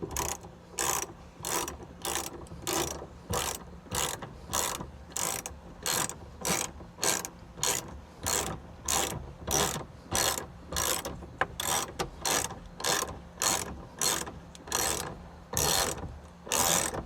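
Ratchet clicking steadily in repeated short bursts while tightening the steering wheel nut on a kei truck, close and fairly quiet, with no talking.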